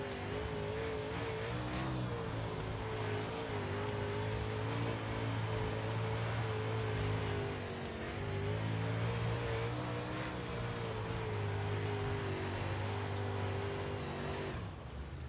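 A dirt modified race car engine in the iRacing sim roars continuously with shifting revs and a slight dip midway, steady and loud with no voices.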